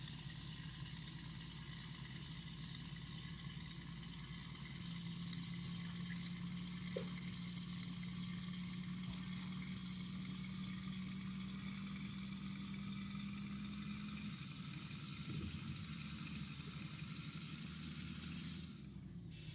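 Mercedes LPS 1632 truck engine in Euro Truck Simulator 2, a steady loud diesel drone running throughout, with a low tone rising slightly in the middle before settling back.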